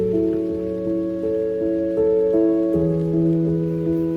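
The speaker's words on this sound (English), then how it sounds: "it is pouring rain" Heavy rain pours steadily outside a hotel near Yosemite, a continuous unbroken wash with a low tonal hum running beneath it, with no voices present.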